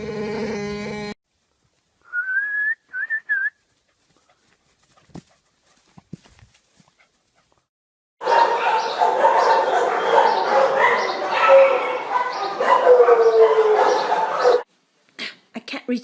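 A dog produces a string of groaning, growly vocalizations like Chewbacca: a brief sound at the start, a couple of short yowls, then a long loud throaty stretch, with pauses between.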